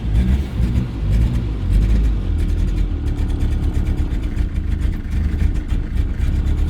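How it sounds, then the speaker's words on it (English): A classic Mini with single-point fuel injection idles roughly with a low, uneven rumble, then strains under pressed throttle without cleanly revving up, its engine noise steady and close throughout. "this is the idling, and this is me trying to hit the throttle"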